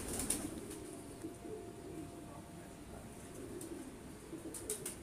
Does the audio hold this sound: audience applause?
no